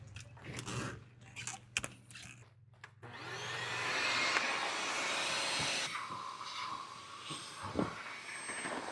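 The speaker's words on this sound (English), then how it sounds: "now it's vacuum time." A few seconds of clicking and handling noises, then a vacuum cleaner starts up and runs with a steady loud whine while cleaning a car interior, its pitch shifting partway through.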